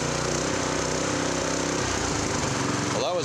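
Honda F501 tiller engine revving up toward full throttle, a loud steady small-engine drone holding high, then a brief dip and climb near the end.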